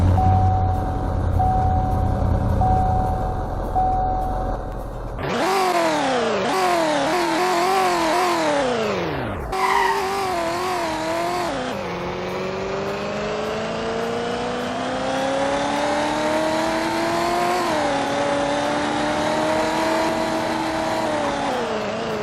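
A 454 SS truck engine in the Roblox game Greenville cranks over, revs hard in several rising and falling bursts, then holds a long, steadily climbing drone, loud and close.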